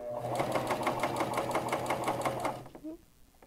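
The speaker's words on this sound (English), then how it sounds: "So now let's start cover stitching." A Janome CoverPro 1000CPX coverstitch machine runs steadily in a rapid, even mechanical rhythm for over two seconds, close and loud, then stops abruptly.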